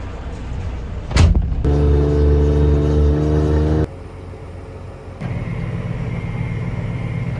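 Semi truck on a farm during harvest: a loud, steady low engine drone with strong harmonic rumble for a couple of seconds after a sharp thump, then a quieter idle before the engine note rises again.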